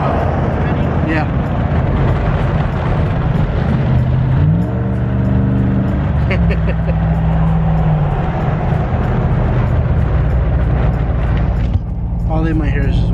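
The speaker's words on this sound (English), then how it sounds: "Guys, the exhaust turned out amazing. There is a little bit of droning going on." A 2019 Ram 1500 pickup with a cat-back exhaust delete drones and revs loudly, its engine note rising and falling close by, with people talking over it.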